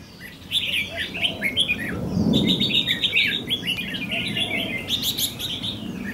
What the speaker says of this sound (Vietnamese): con bạch lem này nó chế á không anh em?